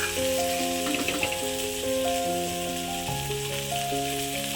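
Potato and grape bhaji sautéing in a pan, a steady close sizzle running throughout with occasional stirring scrapes, while sustained melodic tones ring over it.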